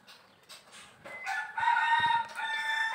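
A bird sings nearby in sustained, clear tonal phrases that grow louder after a quiet start.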